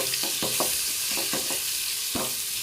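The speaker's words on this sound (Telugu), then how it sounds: "కొంచెం దాంట్లో వేగాలన్నమాట. సో నీట్గా వేగిపోయినాయి." Small chopped pieces of egg sizzle and fry in a pan, with a continuous hiss broken by several short stirring scrapes.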